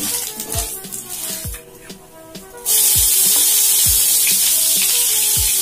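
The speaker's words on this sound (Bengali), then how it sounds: "শুকনো লঙ্কাটাকে এভাবে ফাটিয়ে তেলের মধ্যে দিয়ে দিচ্ছি।" Dried red chilli and whole cumin frying in hot oil, first a quieter bubbling with sharp spoon taps against the pan, then a sudden loud, steady hissing sizzle that carries on with periodic knocks.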